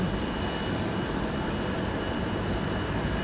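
A steady, droning helicopter rumble holds constant throughout, a continuous engine roar with no voices.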